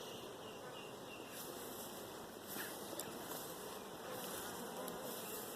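Honeybees hum at a hive entrance in an apiary on a dull day, a continuous close, low buzzing drone with a few individual bees passing nearer, faint overall and without talk.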